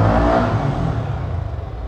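A Kawasaki Ninja 300 motorcycle engine revs hard during a wheelie, a loud close rising roar that gradually eases off into a steady droning whir.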